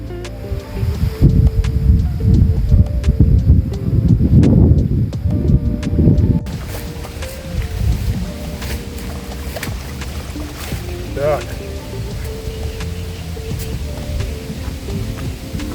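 Gusty wind roars against the microphone while fishing on the Dnipro river, loudest over the first few seconds, then settles into a steadier rushing noise with a light patter like rain.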